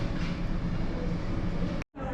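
A train pulls into the station at Glacier 3000 in Switzerland with a continuous, fairly loud rumbling roar. The sound cuts out abruptly for a moment near the end before resuming.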